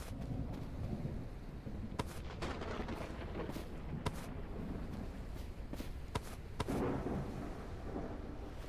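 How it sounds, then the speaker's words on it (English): Thunder in the video game Everwind rolls as a steady, dense low rumble across a clear sky, broken by several sharp crackling strikes spaced a second or two apart, with no voices. "still clear sky, and you can hear the thunder and all that"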